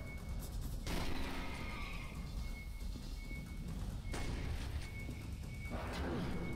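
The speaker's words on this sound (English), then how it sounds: "Back to the shotgun." Shotgun blasts in the Aliens versus Predator video game, a series of heavy booming shots with dense crashing noise filling the clip, loud and continuous with a few sharper bursts.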